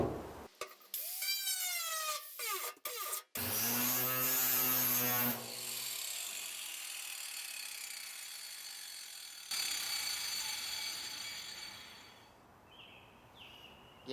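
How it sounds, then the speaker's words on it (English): Angle grinder spinning a hole saw, a steady high-pitched motor whine that rises and shifts in pitch, with sharp bursts at the start and the hum tapering off toward the end, no voices. "So I'm going to try it on my angle grinder."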